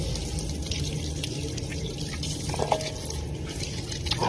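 Fish being washed under a water tap, a continuous stream of running water with small splashes and drips as the fish are handled, close and fairly quiet.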